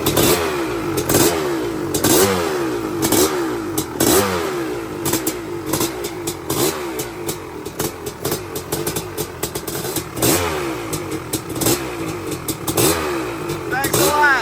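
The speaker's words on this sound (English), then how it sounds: "1994 CR500 electric start street bike." Engine of a 1994 Honda CR500 two-stroke street bike with electric start, revving and blipping repeatedly in the foreground while people talk nearby throughout.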